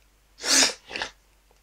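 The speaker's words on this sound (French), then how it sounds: "Excusez-moi de renifler, je suis désolé, j'ai pas de mouchoir avec moi" A person sniffs sharply twice through a runny nose with no tissue to hand, a long strong inhale followed by a shorter one, close and loud in an otherwise quiet room.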